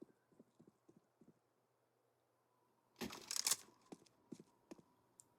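Faint, evenly paced footsteps tap out in a Counter-Strike match at CCT West Europe, followed by a louder burst of clattering action and a few scattered taps, all quiet and distant.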